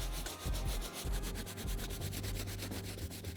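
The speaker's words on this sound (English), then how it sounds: "the brush is really breaking down all the mud off the shoe" A soft bristle brush scrubs caked mud off an Air Jordan 11 "Legend Blue" sneaker, a dense, steady rubbing that pulses in quick strokes, close and fairly loud, with no talking.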